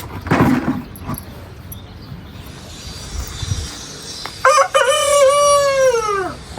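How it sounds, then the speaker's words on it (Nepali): A rooster crows loudly nearby, one long drawn-out call, preceded by some faint rustling and brief background noise. "यो भाले के साथीहरू देख्न सक्नुहुन्छ"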